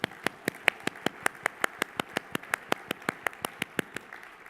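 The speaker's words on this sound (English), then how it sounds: "We should clap for them, don't you think?" Audience at a plenary session clapping in a steady, even rhythm of about twenty sharp claps, with no voices over them.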